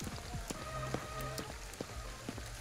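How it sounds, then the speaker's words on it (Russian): Rain pouring down in the video game Ghostwire: Tokyo, a steady dense patter of drops with a few sharper splashes, with no talk. "Кстати, заметьте, что дождь здесь непростой."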